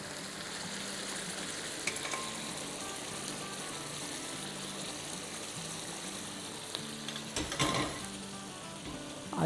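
Fried masala sizzles steadily in a kebab pan, a constant hiss with a brief burst of louder spitting near the end.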